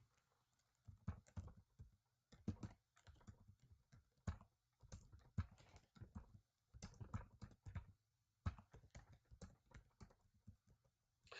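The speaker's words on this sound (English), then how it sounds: "because I'm typing and it jiggles the screen." Fingers type on a computer keyboard up close, tapping out quick irregular bursts of soft clicks separated by short pauses, quiet and with no talking.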